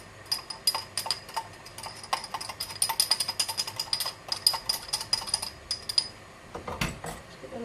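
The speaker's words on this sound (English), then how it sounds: "I'm just going to a little scrape round the inside" Utensil scraping around the inside of an emptied container of cayenne pepper during vegan chilli and cannelloni sauce cooking, a fast run of sharp clattering scrapes and taps, fairly close, with no talk.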